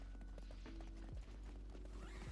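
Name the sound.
horse running hooves in a video game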